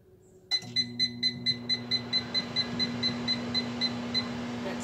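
A steady run of sixteen high electronic microwave oven beeps, evenly paced, over a low constant appliance hum.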